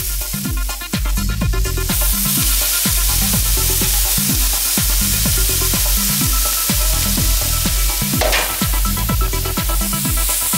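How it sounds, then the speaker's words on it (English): Grated carrot sautés with a cinnamon stick in melted butter in a pan, a constant close sizzle under a repeating rhythmic musical backing. "Stir the grated carrot and make sure it's lightly coated in the butter."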